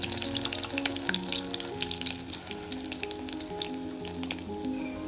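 Urad dal vadas frying in hot oil for a Trivandrum Onam sadya vada koottu curry, a steady crackling sizzle with bubbling pops running alone and close throughout.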